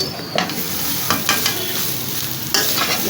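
Diced potatoes for a crisp samosa filling being stirred and fried in a hot pan, a steady close sizzle with a few louder scraping stirs, no voices.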